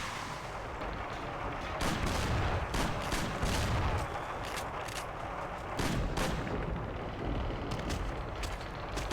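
Gunfire in the game Mafia: The City of Lost Heaven, loud repeated shots in irregular bursts, some close and heavy, over a constant rumbling background with no talk.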